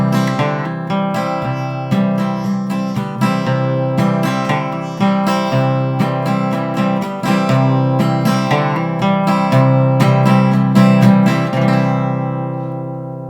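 Acoustic guitar repeats a country-style pattern of single picked bass notes, strummed chords and hammered-on notes, steady and clear, played close with no voices.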